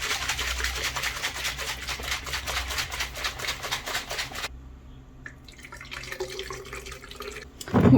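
Water runs steadily from a tap into a pot while cooking at home, then cuts off, leaving quieter kitchen clatter and a sharp knock at the end.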